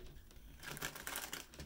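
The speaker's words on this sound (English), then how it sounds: "let's get one more shuffle" Tarot cards shuffled by hand during a reading, a quiet papery riffling and crinkling that builds into a brief denser flurry of card flicks, heard alone with no voice.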